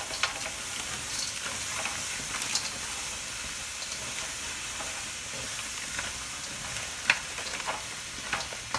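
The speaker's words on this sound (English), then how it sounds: "now we're gonna go ahead and add the garlic and then add the veggies and let those cook down for a little bit" Garlic and mixed vegetables sizzle in a stir-fry pan, a continuous bright crackling hiss with scattered pops and a few sharper spatters, moderately loud and close.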